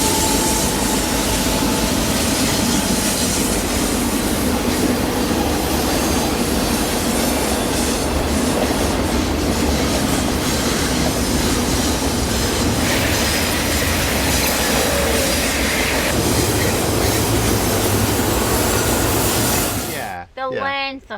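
A long American cargo train rumbles past close by for over twenty seconds, a continuous loud roar of wheels with rhythmic clacking and occasional squeal, ending in a rattling trail-off.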